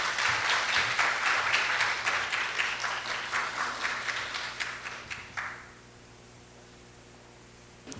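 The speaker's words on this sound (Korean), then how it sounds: "뜨거운 박수 부탁드립니다." An audience at a food and sustainability forum gives a round of applause, dense clapping that holds steady, thins out and stops abruptly near the end, leaving quiet room tone.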